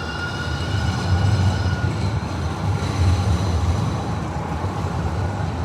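San Francisco Muni N Judah light-rail train heard from inside while riding, a steady loud rumble of wheels and car noise with a faint high whine throughout and no talking.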